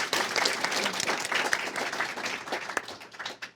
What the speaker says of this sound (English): Let's give them a quick hand of applause.